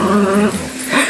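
Dog growling, a Yorkie Poo or Airedale: a short, close, rumbling growl with whiny yip-like edges, lasting about a second and heard alone.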